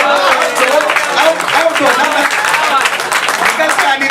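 Audience applause following a Hindi-Urdu poem recital at an open mic kavita sammelan, dense and steady clapping from a crowd filling the room for several seconds.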